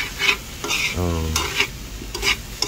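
Half a kilo of beef sautéed in a pan with a little low-cholesterol oil, steady sizzling with repeated scraping strokes of a utensil, close and clear, no talk.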